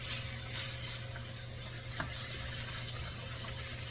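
Catfish frying in butter in a pan gives a steady broadband sizzle throughout, with a low hum underneath and a faint clink near the middle.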